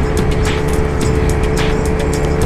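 A Honda Activa 5G scooter runs at full throttle near top speed, a loud, steady engine drone mixed with strong wind rush, recorded close and continuous.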